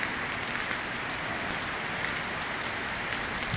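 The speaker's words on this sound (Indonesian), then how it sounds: "ini sudah hujannya sudah deras sekali" Steady, dense hiss of heavy rain pouring down in Banda Aceh, constant and loud throughout with no pauses.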